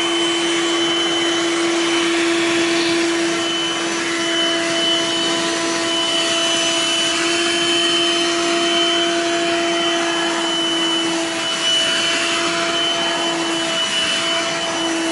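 BLACK+DECKER Dustbuster handheld vacuum running steadily on carpet, a loud continuous whining motor hum with a stable tone that holds for the whole stretch, no voices.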